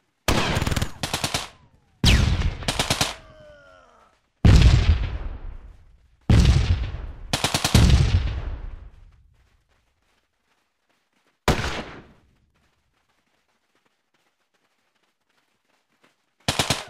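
Gunfire in the World War II strategy game Theatre of War 2: Afrika 1943: loud, close bursts of machine-gun fire and single heavy shots with long ringing tails, separated by stretches of near silence.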